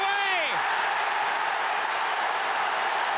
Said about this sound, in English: Applause from the manager.